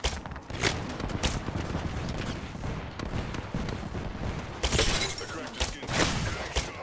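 Gunfire in Apex Legends Season 12 crackles in loud rapid bursts over a steady din of battle noise, with sharp volleys returning near the end.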